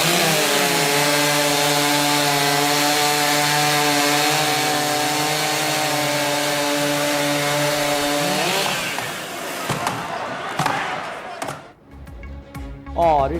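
Chainsaw cutting through wood at a timber sports world championship in Milan, a loud sustained high-revving whine for about eight seconds, then dropping off into scattered clatter and crowd noise.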